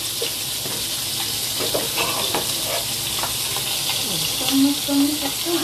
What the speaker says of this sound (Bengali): এটা এখন তেলে ভাজবো ওইগুলো দিয়ে গেল সাথে দিয়ে যে তেল গরম দিয়েছি এখানে একটা ব্যাটার করে নিয়েছি এটার মধ্যে ডুবিয়ে ডুবিয়ে ভাজবো